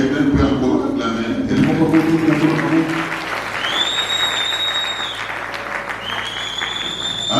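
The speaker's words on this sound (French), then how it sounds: "Est-ce que quelqu'un peut encore acclamer?" A crowd at a church dedication ceremony applauds and cheers loudly and continuously, with a voice ringing out over the clapping.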